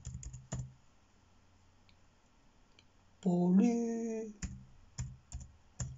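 Scattered keystrokes on a computer keyboard, a short burst at the start and several more near the end, are heard close and clear with a brief voice in between.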